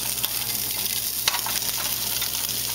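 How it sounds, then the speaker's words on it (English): Steady crackling sizzle of Spam frying in a pan until golden brown, with a brief louder pop midway and no talking. "You want to fry the Spam until it's a golden brown color."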